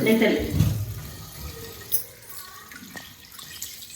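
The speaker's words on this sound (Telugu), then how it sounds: "ట్యాప్ తిప్పు తిప్పరా" Water runs from a turned-on tap into a sink while vegetables are washed, a steady splashing wash loudest at the start and thinning to drips and trickles; voices are faintly present.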